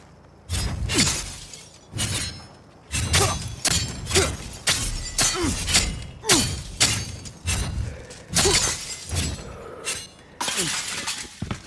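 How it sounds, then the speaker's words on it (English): Glass shatters again and again in the video game Cyberpunk 2077, with about ten sharp, bright smashes and crashing debris spaced through the clip, close and loud with no talking. "Just break the glass and dive in."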